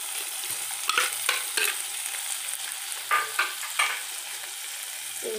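Onion and garlic fry in sardine oil for a sardine sauce, giving a steady bright sizzle broken by several sharp stirring scrapes at irregular moments.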